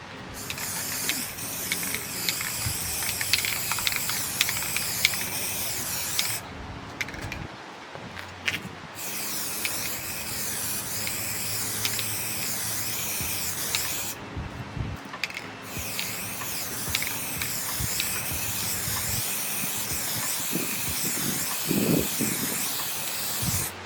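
Spray-on varnish misted onto paintings from an aerosol can, long hissing bursts broken by short pauses, with rattling mechanical clicks from the can across the whole stretch.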